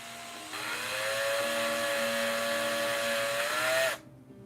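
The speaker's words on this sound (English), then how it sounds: "I'm actually gonna drill a hole in the bottom of the pumpkin" A power drill whines steadily for about three and a half seconds while boring a hole into the bottom of a miniature pumpkin, its pitch rising slightly before it cuts off; close and loud, with no talk.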